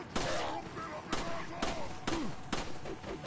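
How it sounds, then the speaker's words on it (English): Gunfire in the Resident Evil 4 video game: five sharp shots at roughly half-second intervals, each a loud crack followed by a brief decay, with a voice speaking between them. "Aim your freaking gun, Leon!"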